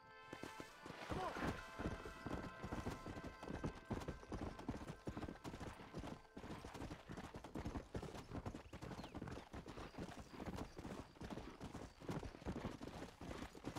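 A horse gallops steadily in Red Dead Redemption, a rapid, continuous drumming of hoofbeats that stays close and even throughout, with faint tack and movement noise underneath.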